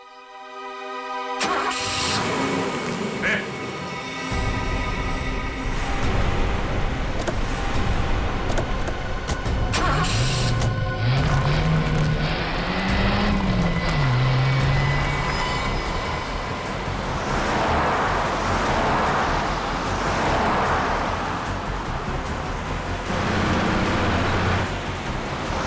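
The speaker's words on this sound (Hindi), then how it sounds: "गाड़ी बहुत तेज चला रही है।" A car speeds along near a railway track with a loud, continuous rushing roar that holds throughout, and a wavering rising-and-falling tonal whine swells midway. No one speaks.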